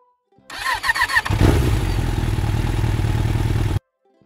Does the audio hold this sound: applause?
no